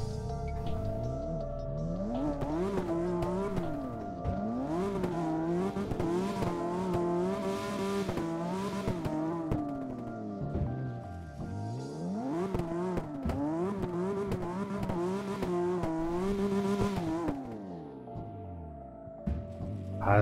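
Drifting car in the CarX racing game, engine loudly revving up and down in sweeping pitch swings while tires squeal through corners, continuous and close throughout.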